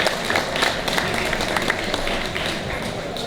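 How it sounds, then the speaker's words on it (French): Audience applause at a cosplay contest during a LAN event, a dense continuous patter of many hands clapping, fairly loud and close, holding steady for a few seconds with a faint voice underneath. "Et on les applaudit encore une fois"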